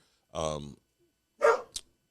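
Dog barks twice, close and fairly loud, a sustained harmonic bark followed by a shorter sharp one, with a brief quiet gap between.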